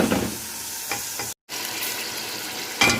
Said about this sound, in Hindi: ये जो हमारा बीफ था वो मैंने भून लिया।